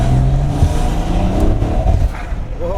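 BMW B58 engine fitted with a front mount intake, a loud, close, deep droning rumble that holds steady with a slight rise near the end.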